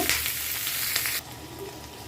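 Potatoes, tomatoes and onions frying in a pan, a close bright sizzle that suddenly drops to a quieter hiss partway through.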